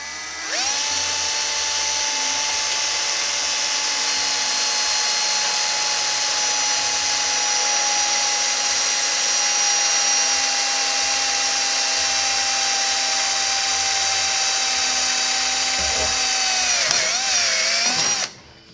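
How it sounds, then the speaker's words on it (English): A power drill bores a hole into the steel frame of a 1940 Ford truck, a loud, steady high whine held for about seventeen seconds, then winding down at the end. "drill a hole in the end of it, and that will stop the crack"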